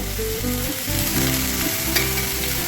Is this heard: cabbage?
yes